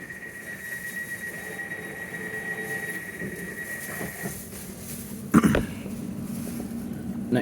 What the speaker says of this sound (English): This is the train to Paddington.